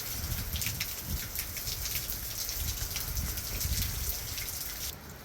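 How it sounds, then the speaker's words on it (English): Steady rain from a tropical storm falls continuously, a dense hiss of drops pattering on surfaces with no pauses, fairly quiet and even throughout. "It is a steady rain."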